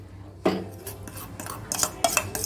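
Custard apple pulp is stirred into milk for basundi, giving a few light metallic clinks and scrapes of a spoon against the vessel, close and fairly quiet.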